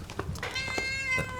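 A cat meows loudly and close in a scene from a Malayalam film: one drawn-out, wavering meow over soft background noise and faint movement.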